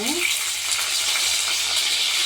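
Cumin seeds and curry leaves sizzle steadily in hot oil in a pan, a close, continuous crackling hiss with no one speaking.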